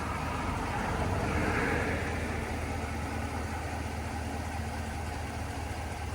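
A RAM 1500 pickup idling while its air suspension raises, giving a loud, steady low engine hum with a faint broadband hiss swelling briefly early on, no voices.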